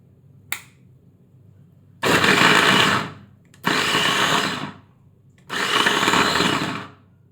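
Electric capsule cutter chopping onion: a single sharp tap, then three loud buzzing motor bursts of one to two seconds each, separated by short silences, close up with no talk.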